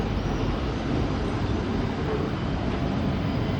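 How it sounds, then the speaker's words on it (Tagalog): A small tram passes close by on a street in France, producing a steady, dense rumbling roar that holds for several seconds with no speech over it. "So this is the public transportation here in France. Small train. But this is called tram."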